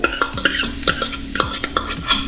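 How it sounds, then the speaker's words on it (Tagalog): Onion and garlic sautéing in melted margarine, loud close stirring with rhythmic scraping strokes of a utensil against the pan over a light sizzle. "Tapos igisa na po natin yung ating sibuyas tsaka yung bawang."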